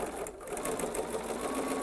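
A sewing machine stitches jelly roll fabric strips for a rag rug, running as a continuous fast close whir of needle strokes throughout with no talking.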